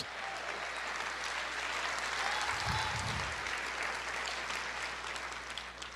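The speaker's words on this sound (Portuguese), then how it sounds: "Você pode aplaudir o Senhor" A church congregation claps and praises together, a broad wash of applause heard at a moderate distance, with a low rumble swelling briefly near the middle.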